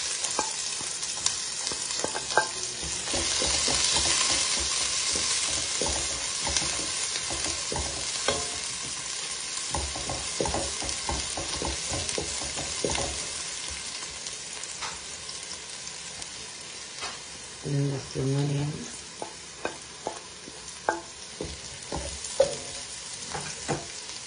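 Onion frying in a pan for paneer rice, a steady close sizzle with repeated stirring scrapes and clinks of a utensil; no talking.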